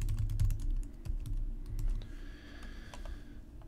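Fingers type a Wi-Fi password on a keyboard during WiFiRanger setup, giving a quick run of close clicking keystrokes at an uneven pace that fades toward a quieter hum at the end.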